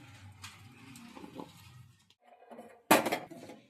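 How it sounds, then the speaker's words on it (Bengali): Spoon clinks and scrapes against a bowl while dry ingredients are mixed: baking soda, black cumin, red chilli powder and turmeric for a vegetable egg chop batter. Soft scraping builds to one sharp, loud clatter near the end, with no talking. "এরপর সব উপকরণগুলো আমি মিশিয়ে নিচ্ছি"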